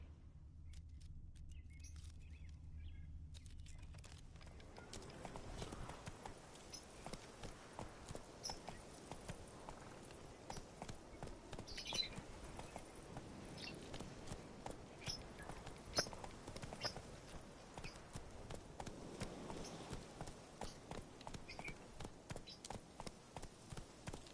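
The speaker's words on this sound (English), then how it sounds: "Whoa there, Roach" A horse in The Witcher 3 video game walks with steady, rhythmic clip-clop hoofbeats that run for over twenty seconds, following a brief quieter opening, with no talk heard.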